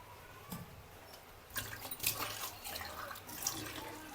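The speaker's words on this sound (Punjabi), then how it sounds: "ਥੋੜਾ ਜਿਹਾ ਪਾਣੀ ਹੋਰ ਐਡ ਕਰ ਲਾਂਗੇ" Water splashes and trickles in short bursts into gram flour chilla batter, with a few drips and clinks, fairly close and moderately quiet.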